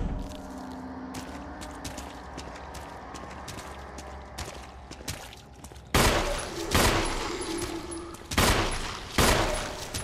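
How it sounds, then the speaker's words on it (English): Handgun shots fired at zombies in the Resident Evil HD Remaster game on PS4, several sharp loud bangs spaced apart over a low ambient game backdrop. "We'll use the handgun."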